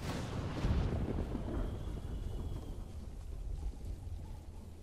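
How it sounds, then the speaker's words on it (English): Stormy weather in the video game Ghost of Tsushima: a steady, loud rumble of thunder and wind-driven rain fills the whole stretch, with a heavier swell near the start. "Stormy weather we're having."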